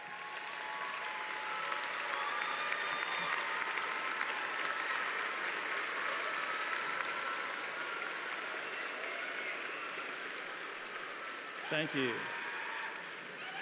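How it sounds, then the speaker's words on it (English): Commencement audience applauding the graduates' parents fills a large hall, steady sustained clapping from a big crowd throughout, with a brief voice speaking near the end. "Would the parents of our candidates please stand and receive our applause?"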